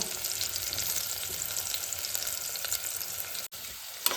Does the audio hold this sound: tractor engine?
no